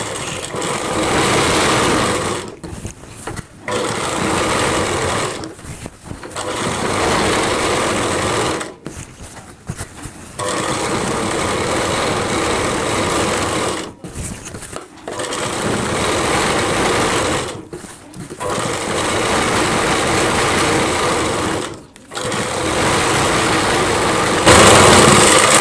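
A sewing machine runs in long steady bursts while stitching a Rajputi kanchali blouse, its fast mechanical whir broken by several short pauses, loud and close with no voices.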